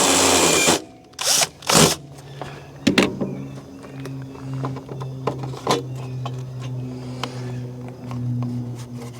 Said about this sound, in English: Now we're going to go ahead and countersink it.